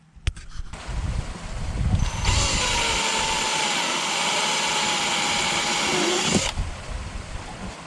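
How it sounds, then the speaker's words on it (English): A power drill whines steadily for several seconds at close range, loud and continuous, drilling a drain hole in a rusty hatch of a 6x6 Land Rover Perentie camper, starting after a few short clicks and handling noises. "So we're going to drill a drain hole."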